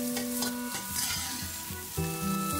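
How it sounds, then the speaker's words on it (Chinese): Beaten eggs hit hot cooking oil in a wok and are stir-fried quickly for a luffa and egg dish, making a close crackling sizzle over stepping background music. "油热倒入我们搅拌好的鸡蛋， 把鸡蛋快速的给它翻炒"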